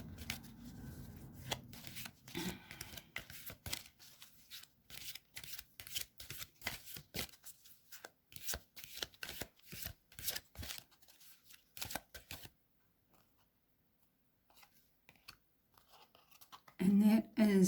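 A deck of oracle cards is shuffled again and again in quick riffling bursts, close and crisp, with some speech mixed in early on. A short pause near the end is followed by a low thump.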